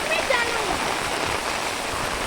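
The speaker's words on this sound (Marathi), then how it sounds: "पाऊस मात्र खूप लागतो" Heavy monsoon rain pours down in the Konkan countryside, making a dense, steady hiss over rushing floodwater, constant and close, with a voice speaking faintly at times.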